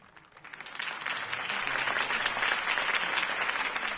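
A crowd in Batman: The Telltale Series applauds Harvey Dent's campaign speech, the clapping swelling in over the first second into a dense, steady roar of many hands that holds to the end.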